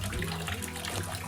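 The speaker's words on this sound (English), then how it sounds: "But there's water coming out." Spring water flowing out of a cave mouth on a forested Ozark trail, a close, steady rushing gurgle filling the short moment.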